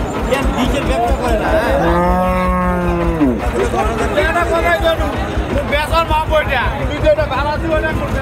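Cows moo loudly at a busy rural cattle market in Naogaon, one long low call standing out over constant crowd chatter and bargaining voices close by.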